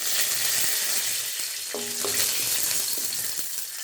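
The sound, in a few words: cumin and dried chillies frying in oil after dal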